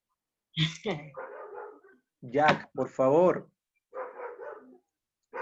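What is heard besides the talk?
dog barking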